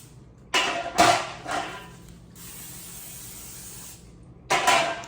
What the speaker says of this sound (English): first thing I wanna do is go ahead and spray my pans